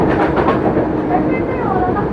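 Loud, steady rumble and wheel clatter of a Pune-Phaltan DEMU train running on rails, heard close up from inside the moving coach.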